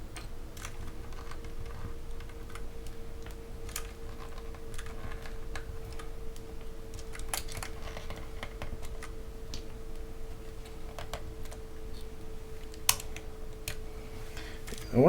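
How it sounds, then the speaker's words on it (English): Steady, fast typing on a keyboard fitted with BOX Crystal switches, a continuous run of crisp clicky keystrokes under a faint steady hum, with no talking. "I think I just have enough time to do a typing test if I hurry."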